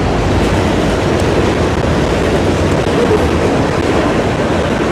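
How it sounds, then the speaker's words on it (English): A train rumbles past a baseball field, a loud continuous roar of wheels and rail noise filling the whole stretch without letup. "we've got a train coming through, so I'm sure you can hear that."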